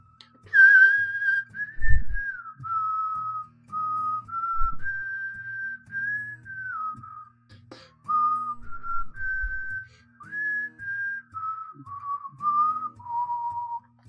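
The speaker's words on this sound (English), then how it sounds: "Very poor whistling." A man whistles a wandering, wobbly tune close into a microphone in short phrases with brief pauses, breathy pops between notes, and no talking.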